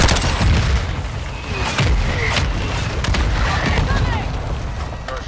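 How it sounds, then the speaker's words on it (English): Video game combat with a grenade blast and gunfire: a loud, dense rumble of booms and shots that stays continuous throughout, heavy and close, with no clear speech. "Throwing grenade!"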